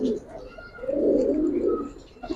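Giribaz pigeons give a low, throaty coo that swells in the middle and fades, close by, with a short softer coo at the start.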